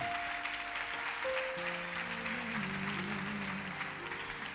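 Applause from a church congregation rolls on steadily as a wash of clapping, while sustained keyboard tones from the musicians sound through it.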